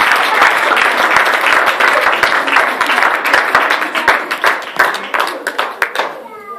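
A church congregation claps and applauds during a Sunday service, a dense sustained clatter of many hands that breaks up into looser, uneven claps near the end, with voices mixed in.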